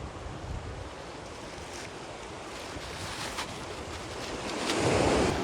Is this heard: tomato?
no